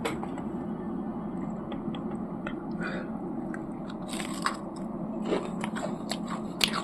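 Close crunchy bites and chewing of French fries at a weekend destination eatery near Kolkata, continuous under a murmur of background chatter and clinks.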